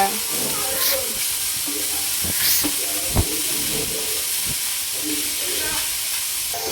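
Onions for egg parotta fry in a pan with a loud, steady hiss, while the stirring adds intermittent metallic scrapes and knocks.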